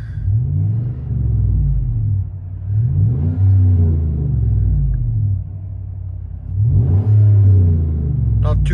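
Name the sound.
Chevy Silverado/GMC Sierra V8 engine heard from inside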